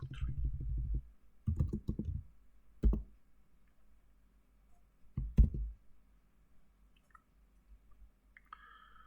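Typing on a computer keyboard, with short bursts of close clicking keystrokes separated by quiet pauses.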